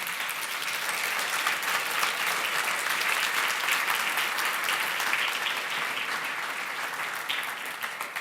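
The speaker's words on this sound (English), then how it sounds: "Let's give our panel a round of applause," Steady, dense applause from a small-business summit audience, sustained and evenly loud for the whole stretch with no speech over it.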